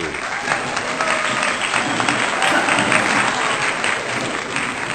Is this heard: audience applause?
yes